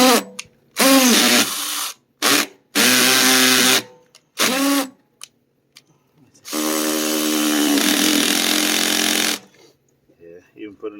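Power drill driving screws into a newer, softer concrete septic tank riser, running in several loud bursts of a few seconds each, with one long final run, up close.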